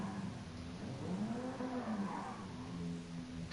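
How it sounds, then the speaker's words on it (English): A rally car in GT Sport slides sideways under the handbrake with heavy throttle: a quiet, steady tire skid over a low engine drone, with no voices. "I used the handbrake and way too much throttle"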